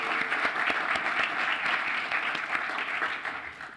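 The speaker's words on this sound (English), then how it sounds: "let's give them a round of applause, and to Risa as well" Audience applause for an events team at a scholarly panel on Justice Robert H. Jackson, a steady wash of many hands clapping that fades slightly at the end, with no talk over it.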